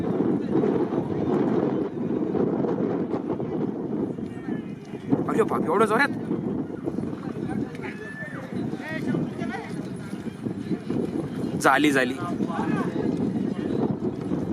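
Horses clatter and gallop at speed in a horse and bullock cart race on an open track, a steady thudding rush under loud excited commentary and crowd voices, with wind buffeting the microphone.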